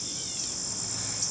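Insects whir in a steady, unbroken high-pitched drone throughout, fairly loud and continuous, with no other sounds over it.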